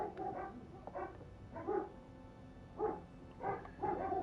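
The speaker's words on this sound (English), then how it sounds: "the dogs are barking because they see the neighbor's cat" Dogs bark at a neighbor's cat in short bursts of two or three barks separated by brief pauses, moderately close and fairly loud, with no speech over them.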